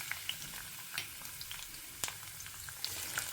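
Hot oil in a wok-style pan sizzling and crackling with garlic, a soft continuous frying hiss dotted with sharp pops and spits, close and fairly quiet.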